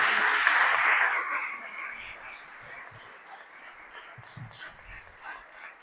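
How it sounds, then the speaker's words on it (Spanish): Audience applause for Ricardo Lew at a talk, loudest at the start and thinning into scattered claps and murmurs as it fades over several seconds. "para quien pido un fuerte aplauso."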